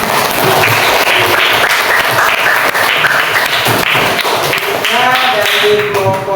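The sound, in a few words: class applause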